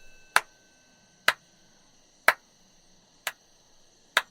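Five sharp, evenly spaced claps ring out one by one at roughly one-second intervals, crisp and isolated against near silence, with a faint sustained tonal hum underneath.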